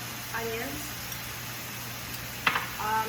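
Frying onions and curry powder for a chicken curry: a steady, moderate sizzle runs throughout, with a voice speaking briefly and a sharp utensil scrape partway through.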